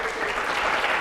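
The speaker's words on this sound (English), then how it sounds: "Give him a round of applause." A short burst of audience clapping at a live quiz show, dense and steady, heard up close for about a second.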